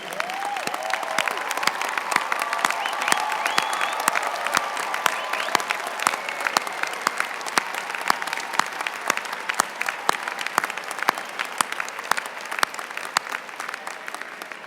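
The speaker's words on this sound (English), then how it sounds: "let's give these wonderful people a round of applause" A large audience at a university commencement ceremony claps in sustained applause, dense and steady, with faint crowd voices mixed in underneath.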